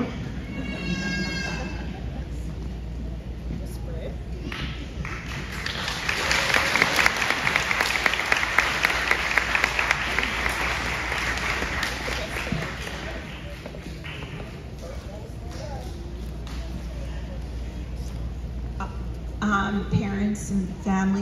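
Parents and families applaud at a kindergarten graduation ceremony, the clapping swelling to a loud burst in the middle and then settling back, with children's voices and talk heard around it.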